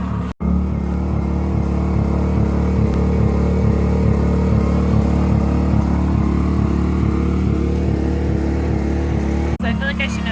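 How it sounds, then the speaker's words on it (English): RV generator running to charge the batteries at a wooded campsite, a loud steady engine drone with a regular pulsing throb, close and continuous throughout. "our alternative method of charging up is the generator"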